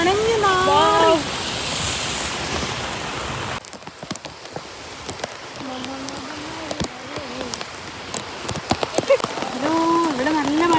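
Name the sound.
heavy rain falling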